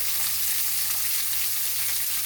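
Garlic and onion frying in a pan, a steady dense sizzle with a low hum underneath, close and continuous, no talking.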